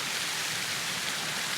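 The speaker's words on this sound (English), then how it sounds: "it looks like it's going to start raining too" Steady rain falls during a thunderstorm, a dense, even hiss of drops on surfaces that is close and constant, with no voices.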